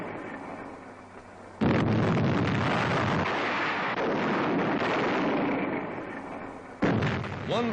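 Wartime 155 mm artillery shells exploding atop Mount Camino on the Italian front, a heavy sustained roar of blasts with rumbling, dense noise and a second sharp burst near the end, heard from a distance through a crackly old recording.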